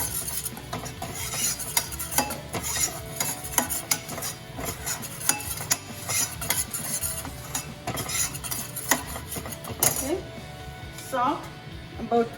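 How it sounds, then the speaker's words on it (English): A spoon stirs cauliflower soup in a pot on the stove, making repeated close clinks and scrapes against the metal with a soft sizzle underneath, while a person talks throughout. "Stirring it."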